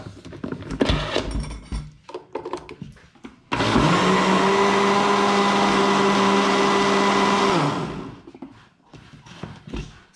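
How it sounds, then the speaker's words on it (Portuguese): A kitchen blender whirs loudly and steadily for about four seconds while mixing dough for a chicken pie made with margarine and salt, then cuts off abruptly between quieter handling noises. "aí você pode bater tudo no liquidificador, até o trigo, tá?"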